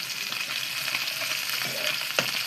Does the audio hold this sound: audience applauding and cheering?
no